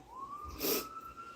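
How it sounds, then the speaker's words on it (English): A siren wails steadily in the distance, its tone rising slightly and holding, with a brief burst of louder noise passing through the middle. "y'all hear the siren"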